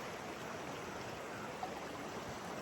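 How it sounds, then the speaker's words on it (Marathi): Water rushes hard through a lake spillway in a steady, dense roar of broadband noise, loud and unbroken, with no voices over it. "बघा ही सांड आहे आमच्या तलावायची बघा कशी वाहती"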